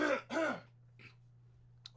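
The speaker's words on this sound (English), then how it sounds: "I'm going to clear my throat" A single person clears their throat twice in quick succession, close and fairly loud, followed by a faint short exhale and a brief click, with a steady low hum underneath and no talk.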